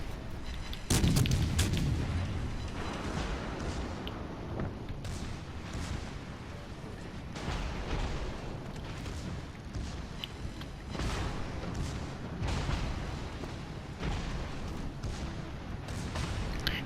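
Warship broadside gunfire in World of Warships Legends: heavy naval cannon booms and rumbling salvos recur across the stretch, loud and dense, with no talking.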